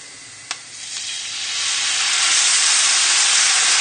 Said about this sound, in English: now we're going to start adding the stock